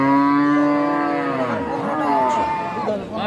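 Cows moo loudly and close by at a cattle market, one long drawn-out low call that bends and wavers in pitch, with faint crowd noise behind it.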